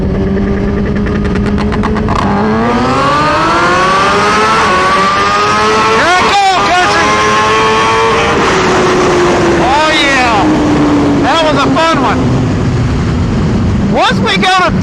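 A 2023 Suzuki GSX-R1000 engine revs hard and accelerates through the gears, its loud close whine climbing and dropping with each shift, with wind rush and a voice talking over it.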